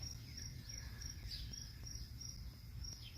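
Sparrows around a backyard deck chatter in quick, faint chirps over a constant high insect-like trill, a soft outdoor bed of small bird calls with no one speaking.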